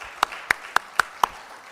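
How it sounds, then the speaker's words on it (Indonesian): Five slow, evenly spaced handclaps ring out sharply and close by during a parliamentary hearing in Jakarta, a sparse rhythmic clapping rather than a full crowd ovation. "ini kasih aplaus khusus nih"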